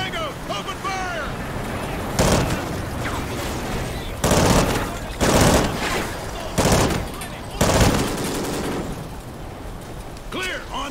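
Gunfire in the Call of Duty: Ghosts video game, several loud bursts of rapid automatic fire in uneven clusters, mixed with combat shouts and radio-style voices between the volleys.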